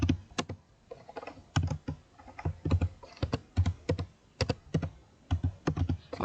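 Typing on a computer keyboard, with sharp, close key clicks in irregular bursts and short pauses between them, heard alone in a quiet room.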